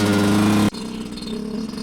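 Dirt bike engine idling as it warms up on a Colorado trail, a steady near engine drone that cuts off sharply partway, leaving a quieter, rougher rumble.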